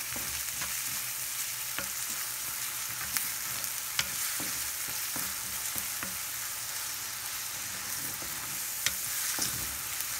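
Onions salted and frying in a clay pot give a constant close sizzle, broken by repeated scraping and tapping of a stirring spoon against the pot, with no talking.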